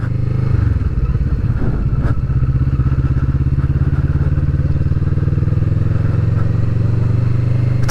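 A 2020 Kawasaki Vulcan S Performance cruiser rides at a steady pace, its engine note a loud, close, continuous thrum with rumble and wind, no talk over it.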